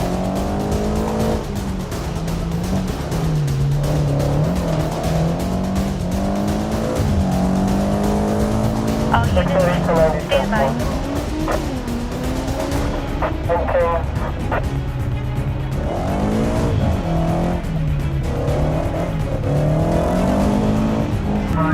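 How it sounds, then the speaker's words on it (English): A stolen BMW races in the BeamNG video game, its engine revving and shifting in rising and falling sweeps, with tires squealing loudly mid-run over roughly twenty seconds of continuous driving noise. "A dash cam in the police vehicle captured footage of the driver performing wild stunts with the stolen BMW."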